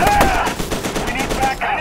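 Rapid gunfire from a first-person shooter, F.E.A.R. 2, crackling continuously through the whole stretch at close, loud level, with a whining tonal sound mixed in.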